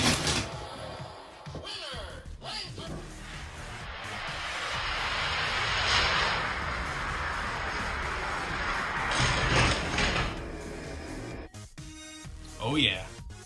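Hot Wheels die-cast cars race down a long scale quarter-mile track, a building rolling rumble and whirring hiss that swells over several seconds, with clicks and thumps at the start and end.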